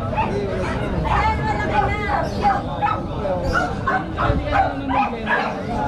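Repeated yips and barks from a chow-chow close by, mixed with people chattering in the background.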